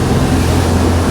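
A 2008 Nimbus 402 Nova motorboat cruises at about 20 knots, giving a loud, steady roar of engine, wind and hull noise that holds constant without a break.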